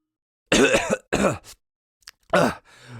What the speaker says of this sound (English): He coughed and cleared his throat